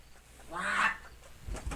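A person imitates a clucking noise during a tabletop fantasy role-playing game, a single faint, throaty honk-like vocal sound in a quiet room, followed by soft thumps.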